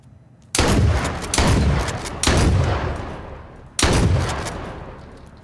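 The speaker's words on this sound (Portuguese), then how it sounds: "Acho que eu não deveria ter dado tanto tiro assim." Four loud gunshots from the video game H1Z1, each a sharp blast followed by a long rolling echo, spaced unevenly over several seconds.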